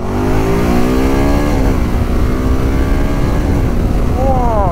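A 2011 Can-Am 990 Spyder RSS three-wheeler accelerates hard in first gear, its engine note climbing steadily for a long pull, dipping briefly, then rising again close and loud.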